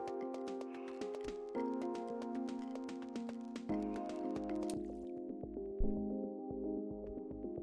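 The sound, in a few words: video game underwater atmospheric effect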